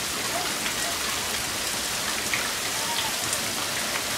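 Heavy rain falls in a nighttime thunderstorm in Hermiston, a constant close roar of drops on surfaces that stays even throughout, with no thunder or voices standing out.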